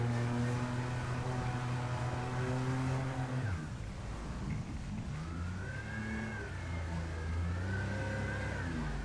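A loud, steady engine roar from an inflatable jet boat speeding along a river, the droning note rising and falling in pitch, sweeping up and down continuously.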